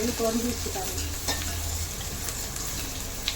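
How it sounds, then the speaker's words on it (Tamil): Onions fry in oil in a pan for a meat curry, a steady close sizzle with stirring scrapes and faint tonal background sounds at the start. "வெங்காயம் நல்லா வதங்கிடுச்சு பொரிஞ்சிட்டா இருக்குது எண்ணெயில்"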